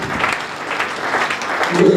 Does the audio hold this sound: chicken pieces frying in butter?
no